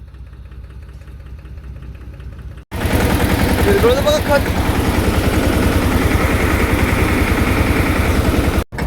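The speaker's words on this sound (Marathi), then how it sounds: "बाकी आता ट्रॅक्टर चालू करायचा आहे." A farm tractor engine starts and runs in a field: a quiet low rumble gives way to a loud, close, rapid diesel chug that holds steady, with brief speech over it.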